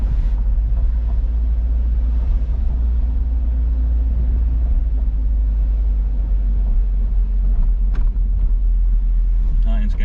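An original unrestored 1969 Buick Riviera cruises along, its engine a deep, steady low rumble heard from inside the cabin, with road noise underneath and occasional faint clicks.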